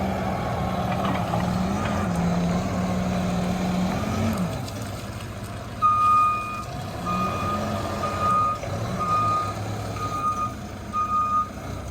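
A Toyota 15K forklift sounds its reversing alarm in a steady run of sharp, evenly spaced beeps over a rumbling engine and background machinery noise.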